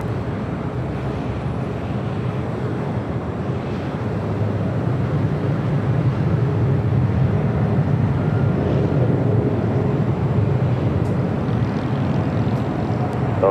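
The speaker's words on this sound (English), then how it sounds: "Next takeoff is Delta Airlines flight 673 heading to Nashville, Tennessee, and a 737-800." A Delta Airlines Boeing 737-800 taking off at LAX, a steady broadband jet roar heard from a distance that swells slightly partway through, with wind buffeting the microphone.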